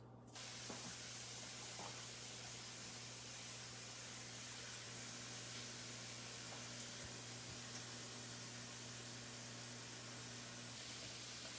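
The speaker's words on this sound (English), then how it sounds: "Now we're going to saute our mushrooms in our heated pan for just a few seconds." Mushrooms sautéing in a heated pan of melted butter give off a steady, faint, hissing sizzle that runs evenly throughout with a low hum beneath and no talking.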